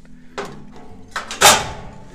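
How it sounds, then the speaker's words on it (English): Inside a lateral file cabinet, the lock bar drops after a thin putty knife is slid between drawer front and cabinet side, producing a few short metallic knocks and a sharper clunk, close and fairly quiet. "You can hear the lock bar dropped."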